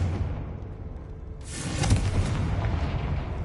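A Confringo fire spell bursts in Hogwarts Legacy, a sudden broadband blast that swells and then rumbles on with a sustained crackling roar and low booming under game ambience.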